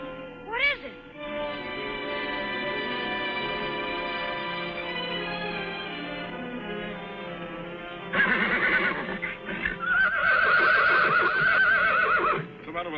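A horse whinnies loudly near the start, a rising and falling neigh, followed by a long sustained musical tone and then a dense, busy stretch of sound toward the end. No one speaks.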